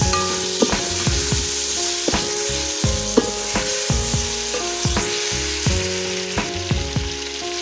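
Tomatoes, whole green chillies and spices frying for aloo tahari potato rice, a loud continuous sizzle broken by frequent rhythmic clinks and scrapes of a spoon against the pot.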